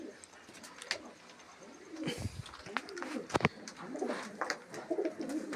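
Pigeons coo steadily at close range, low throaty calls repeating and overlapping, mixed with fluttering and rustling in the coop and a little background talk.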